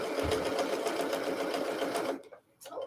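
A domestic sewing machine stitches steadily past a seam for about two seconds, a close, continuous mechanical whir with rapid needle rhythm, then stops abruptly, leaving brief quiet and a faint handling noise.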